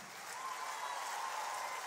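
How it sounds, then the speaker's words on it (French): Steady, dense applause from an audience at a comedy concert at the Olympia in 2014, a continuous wash of hand claps at moderate level lasting throughout, with no voices standing out. "Vous applaudissez"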